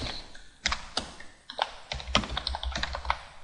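A computer keyboard clatters as names are typed in, keystrokes falling in quick uneven clusters, fairly close and clear with no one talking.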